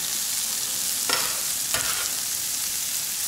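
Chopped onion sautés in sunflower oil in a frying pan over medium heat. A soft, continuous sizzle is broken by two brief scraping stirs, close by and with no speech.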